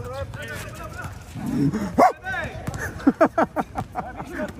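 A dog barks in a few short, quick yaps amid people talking and a noisy crowd at a game in the background.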